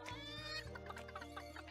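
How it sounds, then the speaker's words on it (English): Chickens in the video game Secrets of Grindea cluck in a short run of quick, chirpy notes over soft background game music, close and fairly faint. "there's chickens"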